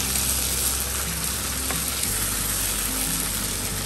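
Onions frying in a pan, a continuous close sizzle and crackle with occasional stirring, loud and steady with no talk.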